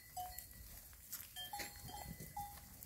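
Sheep on a farm beside the Someș river in a sheep-milking pen, with scattered bleats and the clank of cowbells over a busy outdoor background.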